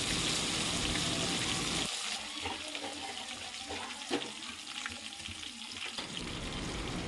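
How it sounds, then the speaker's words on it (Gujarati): Whole spices and ginger-garlic paste fry in hot oil, with a loud hiss that drops sharply as the paste goes in, then quieter sizzling with scraping stirs and a few clinks before the hiss rises again. "ત્યારબાદ આપણે લસણ આદુની પેસ્ટ નાખીશું, પછી થોડીક વાર હલાવીશું"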